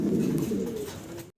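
Fancy Gorra pigeons give a short, close, low coo, a single throaty burst that fades quickly, with no voices over it.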